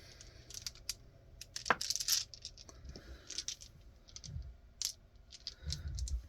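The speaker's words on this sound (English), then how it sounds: "So they will roll 11 dice." Handful of dice clattering onto a tabletop during a tabletop wargame, a burst of sharp clicks and rattles, fairly faint, with a few scattered taps before and after.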